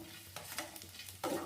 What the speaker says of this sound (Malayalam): ഈ തേങ്ങ ഒന്ന് വറുത്തെടുക്കാം കേട്ടോ